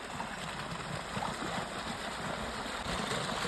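Irrigation water runs steadily through a field channel on a farm planted with chilli plants, a continuous close rushing wash with no talking.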